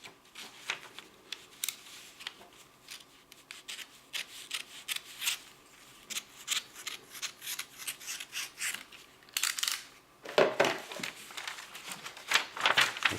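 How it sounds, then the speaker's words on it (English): Scissors snipping origami paper while folding a paper turtle, a run of quick close crisp cuts with some paper rustling, growing louder and busier near the end. "I will cut it with my knife or scissors"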